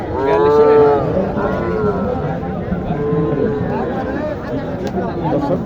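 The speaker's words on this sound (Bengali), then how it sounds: "এইখানে একটি গরু আছে খুব ভালো মানের" A bull at a busy cattle market in Naogaon lets out a loud, drawn-out moo near the start, followed by crowd murmur and people talking nearby.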